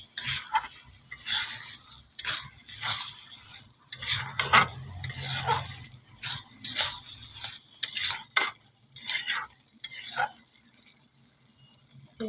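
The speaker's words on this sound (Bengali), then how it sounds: "দিয়ে একটু নাড়াচাড়া করে নেব।" Bottle gourd ghonto is stirred in a pan, with repeated scraping strokes of a spoon over a soft sizzle, close and fairly loud in uneven bursts.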